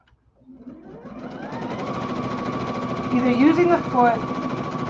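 A sewing machine runs under foot-pedal control, its motor whirring up from silence into a steady, buzzing stitching drone while a person talks over it.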